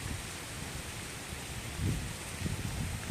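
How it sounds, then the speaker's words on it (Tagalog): Heavy rain pours steadily on a farm, heard as a dense even hiss seen from a hut, with faint low rumbles swelling briefly near the end. "Grabe yung ulan dito."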